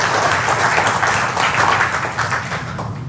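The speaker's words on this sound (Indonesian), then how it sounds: "tepuk tangan lu buat platinum nanoparticles" A small audience applauds steadily for a few seconds at a product talk. The dense, continuous clapping is fairly close and heard without speech.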